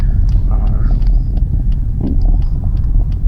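A hybrid car coasting with the gas feathered to avoid regenerative braking, a steady low road rumble and faint whine heard from inside the cabin, continuous throughout with no talk.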